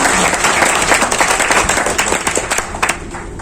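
An audience at a motivational business program in Jaipur breaks into dense, loud applause, many hands clapping at once in a steady wash that tapers off slightly toward the end.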